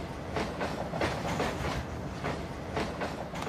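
A moving train: a steady close rumble with a regular clickety-clack of wheels on rail joints, with no voices.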